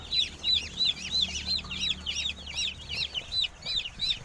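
Chickens and chicks give soft, repeated high cheeping calls in a quick regular rhythm, faint and close, with a low background hum.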